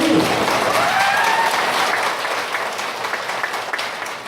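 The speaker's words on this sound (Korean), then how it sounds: "잘한다고는 박수를 쳐야 되지." Audience clapping at a seniors' day gathering in Daejeon's Dong-gu, dense and loud at first, then thinning and softening into scattered claps toward the end, with no speech over it.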